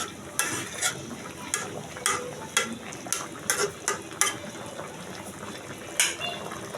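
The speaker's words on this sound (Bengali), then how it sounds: "এভাবে আস্তে আস্তে করে আলতো করে একটা লাড়া দিয়ে দেব" A spoon gently stirs a fish and pointed gourd curry in a pan, each slow stroke a soft scraping swish at an unhurried rhythm over a steady, close background sizzle.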